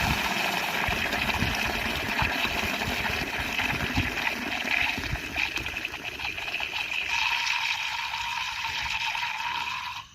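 An automatic water regulator in a cow shed releases water in a steady, close rushing gush that runs unbroken for about ten seconds, its tone shifting slightly toward the end.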